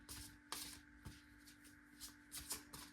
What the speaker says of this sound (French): je vais tirer une ou deux cartes